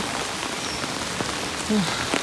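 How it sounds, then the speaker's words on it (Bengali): Heavy rain pours down in a continuous, even hiss of drops on surfaces, moderately loud, with a faint brief tone near the end and no clear talk. "প্রচুর পরিমাণে বৃষ্টি হচ্ছে"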